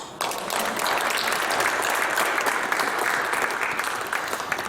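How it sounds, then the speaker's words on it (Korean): A church audience at a Korean Easter union worship thanksgiving service breaks into sustained, dense applause, loud and steady for several seconds with no speech over it. "여러분 박수를 한번 주셨으면 좋겠습니다"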